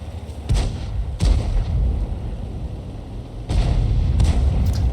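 Tank guns firing in a Wargaming tank battle game, several loud booming shots with rumbling tails, two close together early on and another pair later, over continuous low battle rumble.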